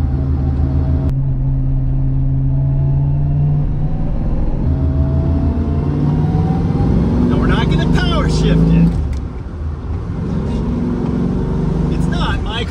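A 1971 Plymouth 'Cuda with a 340 engine and rebuilt four-speed manual transmission drives loudly from inside, its engine note rising and falling through gear changes, with a sharp drop near the end as it shifts.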